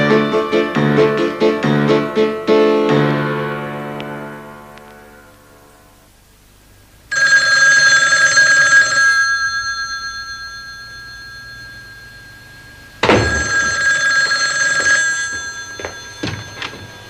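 Old-style telephone bell ringing loud and close in two long bursts of rapid metallic trilling, separated by quiet, with a struck tonal chime fading out before them.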